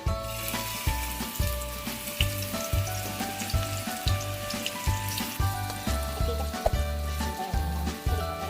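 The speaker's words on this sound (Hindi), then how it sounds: "पहले अच्छी तरह से तेल गरम कर लीजिए। उसके बाद इसमें प्याज डालें।" Chopped onions frying in hot oil for chana chaat, a steady close sizzle with repeated stirring scrapes giving a rhythmic, crackling texture throughout, no talking.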